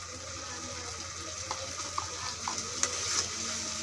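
Blended dried red chili paste with cinnamon and cardamom frying in a pan for spicy chicken curry, giving a faint steady sizzle with a few soft stirring clicks and scrapes, quiet and without talk.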